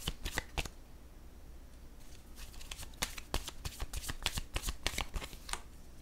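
Tarot cards are shuffled and riffled by hand in a quiet room, a quick burst of crisp flicks followed by a longer run of rapid papery snaps and slides, close and alone with no talking.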